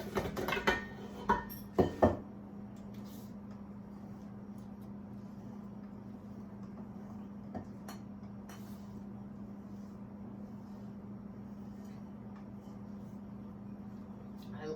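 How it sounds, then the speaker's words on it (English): A utensil scrapes and clinks against a mixing bowl full of cheesecake batter in a few quick knocks early on, followed by a long stretch of quiet background hum. "I'll give it one more kind of swirl around the bowl"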